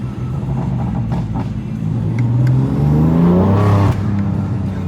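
A BMW M3 Competition engine revs up loudly and close by, its pitch climbing and then dropping back over a low, steady rumble.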